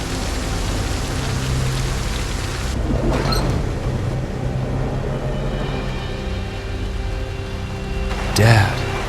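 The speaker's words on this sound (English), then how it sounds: "why are you going out in the storm?" Steady rain with rumbling thunder during a storm in the Project Zomboid zombie survival game, a continuous wash of downpour with a louder crack of thunder near the end; voices are heard faintly beneath the weather.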